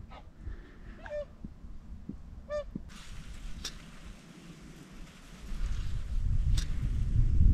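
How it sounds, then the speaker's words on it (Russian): Swans calling as they fly over a river in February in winter, a few faint distant honking calls, then rising wind rumble toward the end. "А, лебеди. В феврале."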